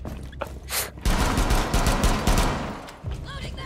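Rapid SMG-11 bursts from a video game shooter rattle in quick succession, dense and fairly close, followed by a short lull with faint noises.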